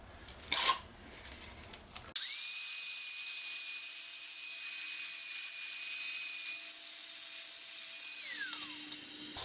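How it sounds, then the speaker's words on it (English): A flap disc on a grinder spins up abruptly and sands steadily across a 1948 Nash cylinder head, a loud continuous whine and rasp, then winds down at the end; a few faint knocks come before it starts. "I'm just using a flapper disc."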